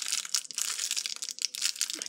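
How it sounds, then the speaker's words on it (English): A crinkly plastic blind bag holding a tiny collectible figure is pulled and torn at by hand, giving dense close crinkling and crackling bursts with brief pauses between them. "So here's the blind bag. You can open it."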